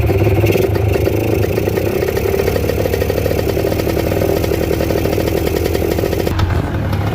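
A two-stroke chopper motorcycle engine runs loud and close, its raspy buzzing idle rising and falling with revs, with a rattling clatter throughout and a brief dip near the end.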